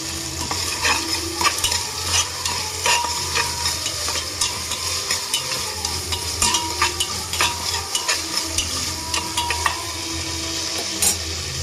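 Carrots stirred and frying in a pan for wheat rava biryani, a continuous sizzle with repeated scrapes and clinks of a spoon against the pan, close and steady throughout, no talk.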